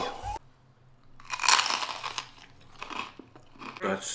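Chicharron with guacamole crunches loudly between the teeth in several sharp bursts, followed by wetter chewing up close.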